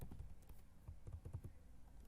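Keys on a computer keyboard are tapped in a short quiet burst, several soft clicks in an uneven rhythm, close and faint with no voice.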